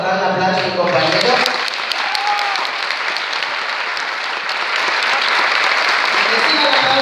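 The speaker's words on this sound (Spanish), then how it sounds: "Y reciba el aplauso para la gente que organiza todo esto." An audience at an arts event breaks into sustained applause right after a brief stretch of talking, the clapping dense and close, swelling again near the end.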